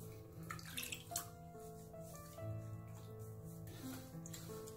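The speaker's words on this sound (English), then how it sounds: "We're gonna get that face rinsed off" Water from a tap runs and splashes while a face is rinsed after shaving, a soft, close, continuous trickle with a few louder splashes.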